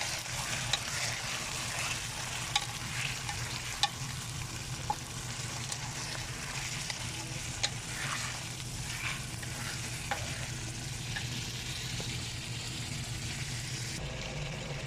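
Chicken frying in a pan for a Pakistani chicken korma sizzles continuously with steady crackling and occasional sharp pops, close and fairly loud, with no talk.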